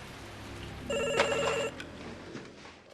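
In a kidnapping film, a telephone rings once with a short, bright electronic trill, faint and clear against a quiet room.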